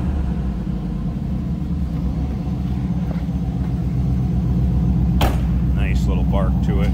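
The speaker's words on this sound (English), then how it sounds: "It's gonna be a little blip of the throttle with this one." A 1995 Pontiac Firebird Formula engine idles with a steady low rumble, then gets a short throttle blip near the end that rises sharply and falls back to idle.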